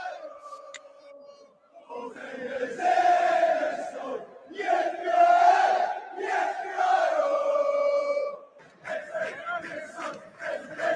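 Aston Villa football fans in a stadium crowd sing a song together after the game, a loud, sustained mass of voices swelling and dipping, with a short break before the chanting resumes in rhythmic bursts.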